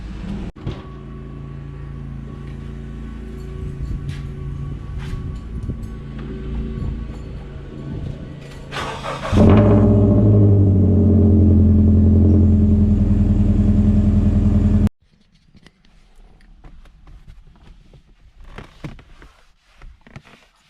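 Car engine of a G model starting up after quieter cabin sounds: a sudden louder rise into a steady running idle hum, then cutting off abruptly to near quiet, close by with no talking.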